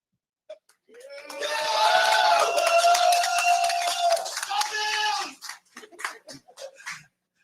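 A small group lets out a sustained, loud whooping cheer with some clapping, swelling for about four seconds before breaking into shorter scattered shouts and claps that die away.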